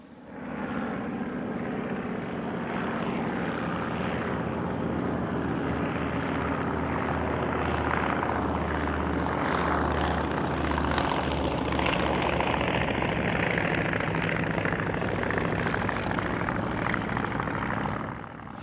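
A Polikarpov U-2 biplane flying at the Russian Air Force 100th anniversary airshow in 2012, its propeller engine droning steadily and loudly throughout as it passes, with no voices heard.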